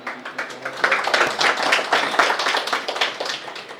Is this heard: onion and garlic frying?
no